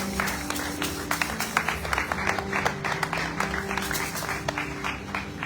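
Church congregation applauding during a praise and worship service, a steady wash of many hands clapping with scattered sharper claps and a faint underlying tone, fairly loud and close throughout.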